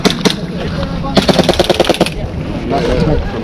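An airsoft gun fires at an outdoor airsoft game, with loud close bursts of rapid shots in quick rhythmic runs over busy background noise.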